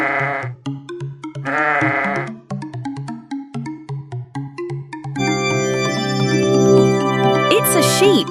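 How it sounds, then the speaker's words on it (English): Sheep bleat loudly and close, two long wavering calls standing clearly above a bouncy children's music backing, followed by a stretch of music with no animal. "It's a sheep."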